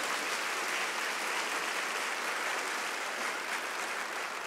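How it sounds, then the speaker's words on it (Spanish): Church congregation applauding for brave young people during a sermon, a broad, continuous wash of clapping heard from some distance, steady and unbroken. "Démosle un aplauso bien fuerte a los jóvenes que fueron muy valientes."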